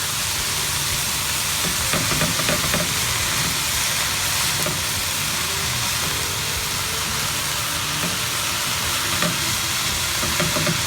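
Zoodles and shrimp sizzle in a large pan, a steady fry with scattered crackles and a few stirring scrapes, close and continuous with nobody talking.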